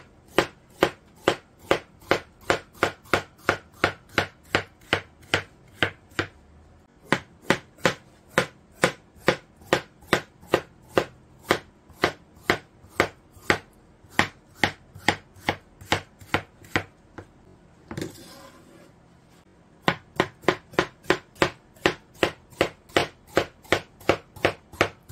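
Knife slicing a hollowed-out old cucumber (nogak) about 0.5 mm thin on a cutting board, a long steady rhythm of sharp crisp chops, close and clear, with one brief pause partway through.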